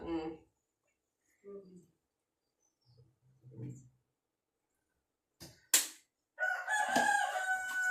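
A rooster crows in the closing seconds, a loud, drawn-out call that is fairly close. Brief bits of talk and quiet gaps come before it.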